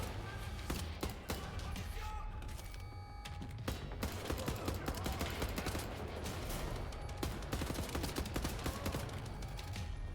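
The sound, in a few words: detachable turret firing in video game Wolfenstein: The New Order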